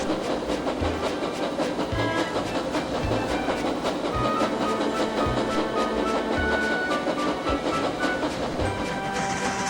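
Steam engine labouring as it hauls a heavy train, a loud, continuous rumbling roar with steady rhythmic low thumps and wheel clatter running throughout, no voices.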